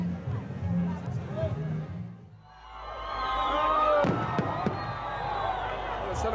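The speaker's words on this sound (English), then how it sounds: "they're ending with a huge party, fireworks, and Russian pop stars" Fireworks bang at a huge outdoor celebration party in Transnistria, with several sharp pops near the end ringing over a loud, steady crowd roar and babble.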